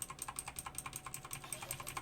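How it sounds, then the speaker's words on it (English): Clicky mechanical computer keyboard being typed on in a quick, steady run of sharp, bright keystrokes, close and moderately quiet, with no talking. "that's an actual clicky keyboard"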